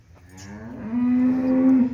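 A dairy cow on a farm gives a single loud, drawn-out moo lasting about two seconds, close and clear with no talk over it.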